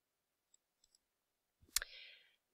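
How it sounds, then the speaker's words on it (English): A single sharp computer mouse click stands out clearly in near silence, preceded by a few faint ticks and followed by a brief fading hiss. "you want to click on Public"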